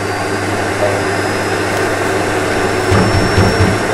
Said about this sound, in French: Arrête de passer l'aspirateur, j'ai mon entretien demain!